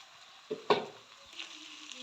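Water poured into a hot pan of pork and yellow corn sets off a sudden hiss and crackle, a sharp splash followed by a steady low sizzle close by.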